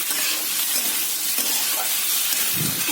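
Boiled peas and potatoes with spices fry in a pan, giving a steady, close sizzle and hiss that runs throughout, with a brief stirring scrape near the end.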